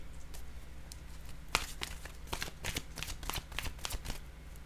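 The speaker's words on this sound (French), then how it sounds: "Je vais y aller avec une carte de mon oracle de l'âme intuitive." Oracle cards being shuffled and drawn by hand: a steady run of soft riffling flutters and papery slaps, close and quiet over a faint background hum, with no talking.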